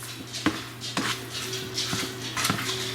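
Ground beef in a pan gets seasoning mixed in, with sharp utensil knocks against the pan at irregular intervals over a faint sizzle, close up and without talk.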